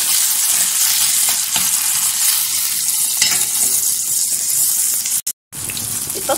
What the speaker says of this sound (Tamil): தக்காளி கொஞ்ச நேரம் வதங்கட்டும்.